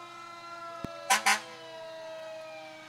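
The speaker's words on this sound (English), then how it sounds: "So let's hear what the siren sounds like in this one." A 1989 Maxim S model fire engine pumper at a Summerfest parade gives brief siren bursts: one sharp blip, then two short loud whoops over a steady engine hum.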